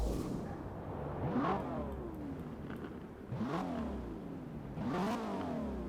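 A BMW 4.7 liter V8 in the Forza Horizon 4 racing game revving repeatedly, three rising sweeps about two seconds apart, each climbing in pitch then dropping off, moderately quiet with no talk over it.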